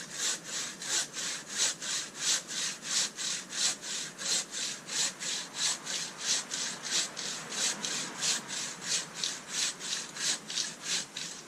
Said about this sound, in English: Sawing it right to the end